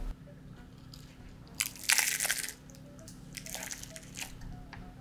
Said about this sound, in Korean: 다음 꿔바로우 먹어볼게요